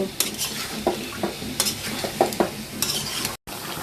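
A spoon scrapes and knocks through fish heads, dried fish and fried spice paste in a hot pan, giving a busy sizzle with uneven rhythmic stirring strokes, close and unbroken apart from one short cut.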